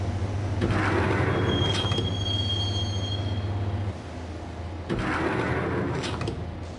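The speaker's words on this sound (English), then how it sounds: "the train doors had already shut behind me, and I was in for the ride" Subway train ride in the video game Max Payne, a loud steady rumble of wheels on rails with a sustained high metallic squeal, a brief dip and then a renewed rush of rolling noise.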